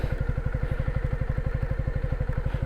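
A motorcycle engine idles close up with a steady, rapid, thumping pulse, loud and even throughout, no voices.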